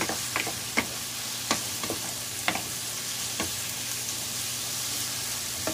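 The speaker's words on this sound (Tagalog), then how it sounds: "igisa lang muna natin ating carrots" Carrots sizzle steadily in a hot pan as they are sautéed, with a constant frying hiss broken by occasional sharp clicks and taps of a utensil stirring.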